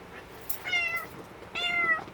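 A tabby cat meowing indoors, two drawn-out, close, plaintive meows about a second apart, with no talk over them.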